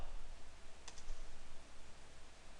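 A computer mouse click and an Enter key press while drawing in CAD software, heard as a quick pair of faint, close clicks near the middle over a quiet room hiss.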